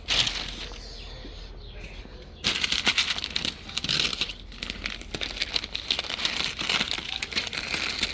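Masking tape being peeled off a car door freshly painted with a rattle-can patina finish, a close, crinkly tearing and crumpling that starts faintly and grows loud and steady after a couple of seconds.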